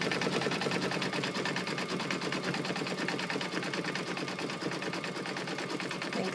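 A home embroidery sewing machine stitching a pattern weight in the hoop runs with a steady, rapid needle clatter, close and continuous throughout with no voice.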